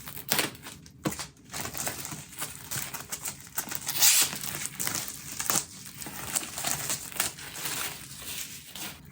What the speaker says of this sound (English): Cellophane wrap is off.